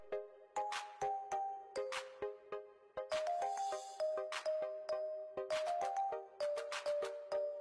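An Oukitel C8 smartphone plays its startup chime, a faint, clear sequence of plucked, bell-like notes in a bouncy rhythm that repeats, heard alone without talk.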